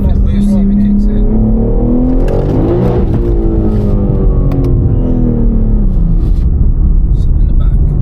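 A 1400bhp BMW M3 accelerates hard from inside the cabin, its loud engine note sweeping upward through the gears with a constant heavy rumble, while voices talk over it.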